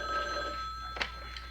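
A telephone rings indoors in a 1970s police drama scene, with a bright electronic-sounding ring tone that holds steady at moderate volume, alone and without speech.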